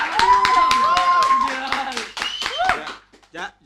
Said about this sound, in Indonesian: Jangan mau tepuk tangan untuk quotes yang ada di Google.